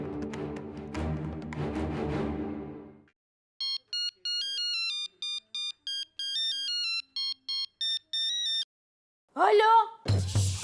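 A melodic electronic phone ringtone plays in short repeating bursts after some music, followed by another sharp sound at the end.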